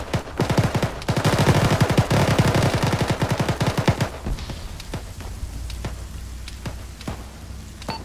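Rapid bursts of automatic gunfire crackle in an Arma military shooter, dense for about four seconds and then thinning into scattered single shots, with no talk.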